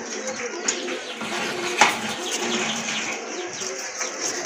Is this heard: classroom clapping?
no